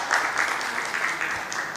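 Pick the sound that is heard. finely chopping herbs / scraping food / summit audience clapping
summit audience clapping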